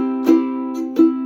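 A ukulele sounds with its chord shapes held improperly, giving a poor, muffled tone: one steady sustained note with two soft strummed attacks, close and fairly loud, no talking over it.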